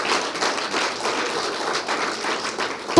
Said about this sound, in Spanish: Un aplauso para mi Señor Jesucristo.